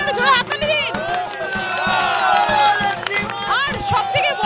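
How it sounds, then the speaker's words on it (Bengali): A crowd at a Lakshmi puja held by a Dum Dum Gorabazar hawkers' union claps and cheers loudly, with shouts, whistling cries and excited voices layered over the applause. "নিজেদের জন্য জোরে হাততালি দিন।"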